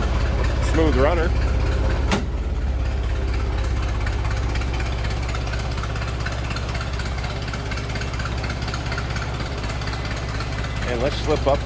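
A 1916 Dodge Brothers touring car engine idles steadily with a low, even rumble, close and continuous, with a brief sharp knock and faint voices or sounds over it.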